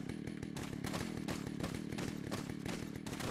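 A chainsaw wielded by an enemy in the video game Resident Evil 4 whines in a steady, rough, revving buzz with rapid rhythmic pulses throughout, fairly faint and with no talk.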